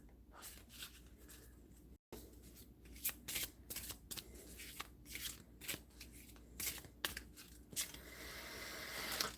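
Cards from a solitaire deck being shuffled near the mic during a tabletop wargame session, with repeated riffling bursts and rapid flutters across the clip.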